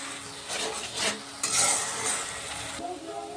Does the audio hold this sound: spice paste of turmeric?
yes